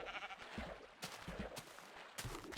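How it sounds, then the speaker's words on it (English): A pink sheep in Minecraft bleats several times, quiet and slightly distant, the short blocky bleats coming at irregular intervals over faint game ambience with no speech. "Hello, pink sheep, pinky."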